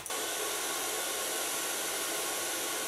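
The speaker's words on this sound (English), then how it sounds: "I start blow drying." A hair dryer blows steadily on a client's hair in a salon during a styling session. The airy roar is loud and close, it runs on evenly without a break, and no voices are heard.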